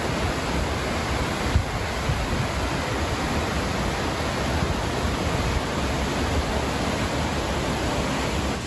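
A waterfall beside an easy, shaded hiking trail in Colorado gives a steady, even rush of falling water that holds at the same level throughout, with no voices.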